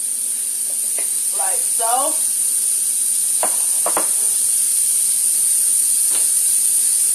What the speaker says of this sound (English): I'm gonna go ahead and put some of our oil and butter in the bottom of our pan.